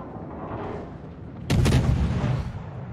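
A warship's cannon fires one heavy, loud blast in a naval battle video game, with a rumbling boom that lingers and decays over a second.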